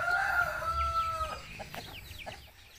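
Chickens on a small farm make a loud crow-like call at the start, then brief clucks and squawks fade out, with a low background rumble underneath.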